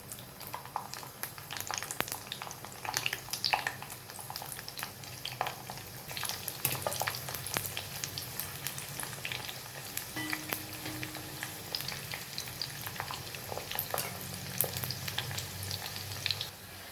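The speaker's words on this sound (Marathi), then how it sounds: "अशाच पद्धतीने आपण यामध्ये फ्लावर पण तळून घेणार आहोत." Cauliflower florets fry in oil in a pan for a vegetable dum biryani, a steady close sizzle with crackling pops and occasional stirring that runs throughout with no talk.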